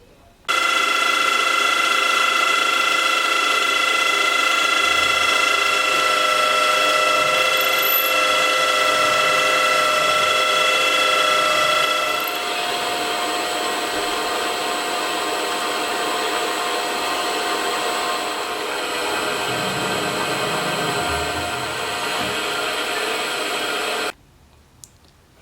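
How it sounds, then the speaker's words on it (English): Milling machine drilling and counterboring holes, a loud steady whining motor hum with tonal overtones that drops slightly partway through and runs on until it stops abruptly near the end. "So I've drilled and counterbored all three holes."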